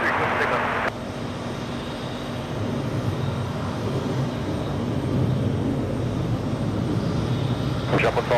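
A fixed-wing airliner rolls for takeoff on runway 22 right at JFK airport, a broad steady engine roar heard from a distance under continuous outdoor noise, with a brief voice at the start and another near the end.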